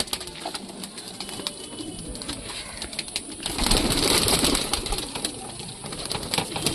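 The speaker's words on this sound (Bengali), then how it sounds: "আরও পায়রা আছে বন্ধুরা। এই সমস্ত পায়রার বেবি সেল হবে" Several pigeons in a pigeon house give low, rolling coos that overlap at a quiet level, with light rustling and a brief swell of fuller sound midway.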